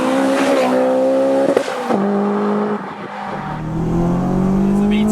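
A supercharged HKS Honda S2000 with a 6-speed gearbox revs hard through its VTEC range toward 9,000 rpm, a loud, rising, screaming engine note that drops between gear changes and climbs again, heard from inside the car.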